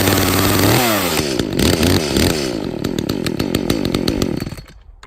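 A cold two-stroke chainsaw with the choke out is pull-started, the engine catching and revving loud and close with a rising harmonic whine, then idling down and cutting off at the end.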